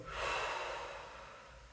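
A deep, close breath exhaled during a chiropractic exam: one long, airy breathy rush that swells quickly and then tapers away, alone without talk.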